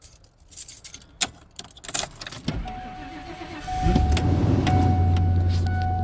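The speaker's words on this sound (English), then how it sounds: "cold starting your vehicle in the winter" A vehicle cold-starts in winter: keys jangle and click near the ignition, a starter whirs, then the engine catches and settles into a steady low idle with a faint whine on top.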